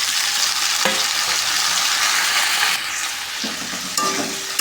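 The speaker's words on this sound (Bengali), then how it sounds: "ভালো মতো নাড়াচাড়া করে নিচ্ছি" Yardlong beans stir-fried in a pan with onion and green chilli, giving a steady close sizzle broken by scraping stirs, with a brief quieter stretch midway and a few clinks of the utensil near the end.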